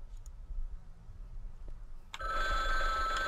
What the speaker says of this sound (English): The scary sound on the phone.